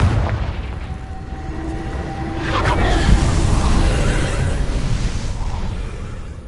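Confringo blasting spell in the Hogwarts Legacy video game, a heavy booming explosion that swells midway and rumbles on before slowly fading.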